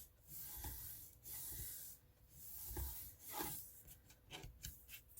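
A bone folder burnishing paper for a mini album, soft close rubbing and swishing strokes in short repeated passes, quiet and dry.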